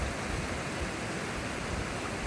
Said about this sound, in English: Our waterfall.